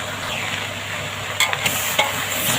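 Food is stir-fried in a pan, a steady close sizzle with a few brief scraping clatters of the spatula partway through.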